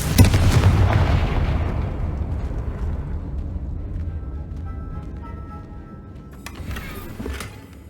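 A Confringo spell explodes in Hogwarts Legacy, one loud blast with a deep booming burst that rolls away into a fading rumble, then a few faint chimes and rustles near the end.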